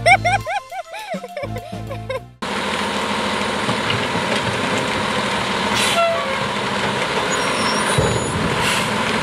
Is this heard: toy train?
yes